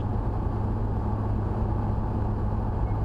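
A paramotor engine held at a 5,000 RPM cruise setting drones steadily and loudly, with a constant low-pitched hum and no change in tone over a few seconds.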